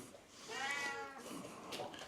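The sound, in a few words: cats meowing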